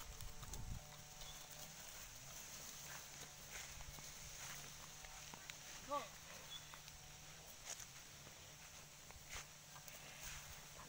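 A carabao plods along with soft, steady hoof thuds on the ground, faint under outdoor ambience and people talking.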